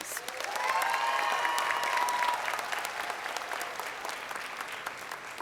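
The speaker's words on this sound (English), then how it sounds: "Round of applause for our band in the back." An audience at a high school graduation applauds the band, a broad, moderately distant round of clapping with brief whistles early on, swelling and then easing off gradually.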